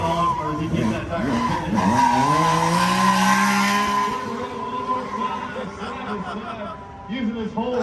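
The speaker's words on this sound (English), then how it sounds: "Smoking that rear tire up." Motorcycle burnout at a Sturgis 2021 bike show, the rear tire smoking and squealing in a long sustained screech with engine drone, crowd noise and talk over it throughout.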